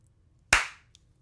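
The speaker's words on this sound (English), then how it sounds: "All right, so I'm going to clap, but I'm going to give you the Aussie version." A single sharp hand clap used as a recording sync mark, loud and close with a short decaying ring in an otherwise quiet room, followed by a faint tiny tap.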